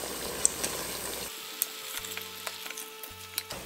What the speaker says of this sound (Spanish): Se fríe un poco para que se ponga más durito